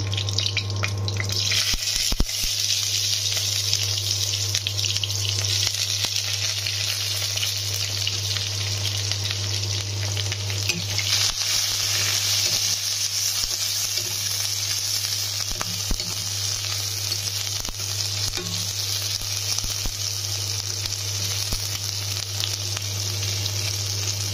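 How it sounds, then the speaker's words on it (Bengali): Chopped onions fry after bay leaf in a pan on an induction cooker, giving a steady, dense sizzle that runs unbroken, with a low constant hum and occasional faint clicks, close and alone. "পেঁয়াজ কুচিটা একটু লাল লাল করে ভেজে নেব"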